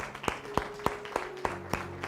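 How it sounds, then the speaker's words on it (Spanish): Clapping at a church service, about seven sharp, evenly spaced claps in a steady rhythm over a faint sustained tone, close and distinct rather than a dense crowd wash. "Dale un aplauso al Rey de Reyes."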